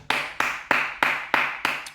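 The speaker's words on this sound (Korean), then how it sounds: "박수 한번 치시죠" Six sharp hand claps land at an even, unhurried pace, each a crisp close smack with a short decay and quiet gaps between.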